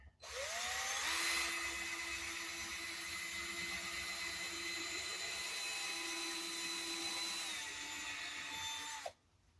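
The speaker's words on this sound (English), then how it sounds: "That's that hole drilled. Now the other side." A power drill bores a hole in a wooden model-railway layout frame, spinning up and holding one steady, close whine for about eight seconds before cutting off abruptly.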